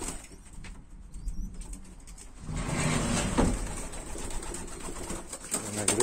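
Homing pigeons coo and rustle in a loft, with soft flutters and wing flaps and a denser patch of throaty calls partway through, close and moderately loud.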